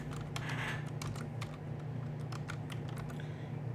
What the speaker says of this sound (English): So I'm gonna type file system